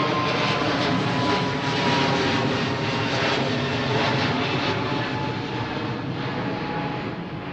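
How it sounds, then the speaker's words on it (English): A Boeing 777 airliner lines up on runway 09R at London Heathrow Airport, its jet engines producing a loud, steady broadband roar that holds for several seconds with no talk over it. "there's a workhorse if I ever saw one, this 777 that's lining up now"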